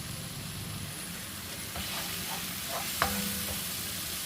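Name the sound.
ground meat frying in a Tefal pan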